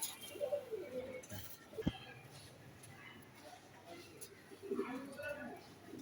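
Pigeons coo in low, throaty bursts on a pigeon farm, several calls rising and fading over a few seconds against a murmuring background.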